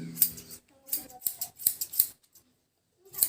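Scissors snip a child's hair close up in quick bursts of metallic clicks, a few cuts in a row with short pauses between them.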